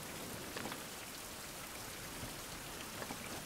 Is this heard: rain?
yes